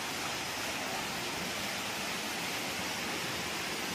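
Steady, dense rush of a waterfall at a cave mouth at Bhadrakali Shakti Peeth, Bageshwar, a constant broadband roar close by with no pauses or voices.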